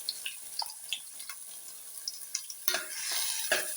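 Ground onion paste stirred into a hot pan while making palak paneer, giving a soft wet sizzle with scraping spoon strokes and clinks, close and fairly quiet, with no voices.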